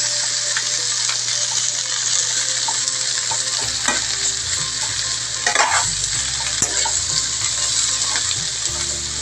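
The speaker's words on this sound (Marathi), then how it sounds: "कांदा पण चांगला भाजून घ्यायचा" Onion and masala frying in oil for a Malvani wet masala while being stirred, a loud continuous close sizzle with scraping stir strokes and soft knocks through the middle, with no talk.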